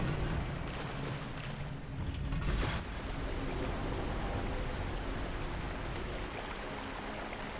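Rising water in the video game Zelda Twilight Princess HD makes a loud, continuous rushing roar, like heavy surf. It holds steady throughout, with a brief swell just before the three-second mark.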